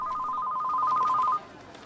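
A telephone in a Tamil film comedy scene rings in a quick trilling electronic burst, loud and close, for over a second before cutting off to quiet room noise.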